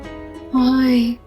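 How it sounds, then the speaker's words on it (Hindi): A male goat gives one sustained, steady bleat lasting about half a second, close and fairly loud over a quiet indoor background. "अरे वो मेरा बकरा है, मुझे पसंद करता है, मैं उसे पसंद करता हूँ, वो मुझे बुला रहा है।"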